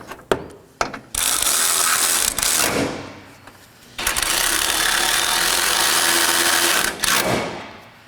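Bolts are run in with a ratchet on a 2013–2019 Nissan Sentra during an AC condenser replacement, with a few sharp clicks followed by long, loud stretches of rapid ratcheting close by.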